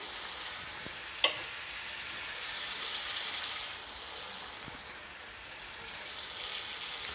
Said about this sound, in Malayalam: നമ്മൾ നേരത്തെ റെഡിയാക്കിയ ചിക്കൻ സ്റ്റോക്ക് കുറച്ച് ഒഴിച്ചു കൊടുക്കണം